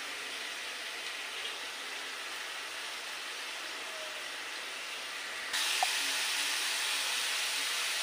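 Spice paste frying in a pan for a bottle gourd curry with fish and potatoes, giving a steady broadband hiss that jumps louder partway through as the sizzle intensifies, with no talking.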